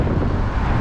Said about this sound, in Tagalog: lakas ng hangin ngayon dito